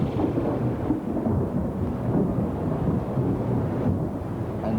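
Heavy thunder rolls and rumbles continuously through a storm, with rain hissing steadily underneath, loud and sustained without a break.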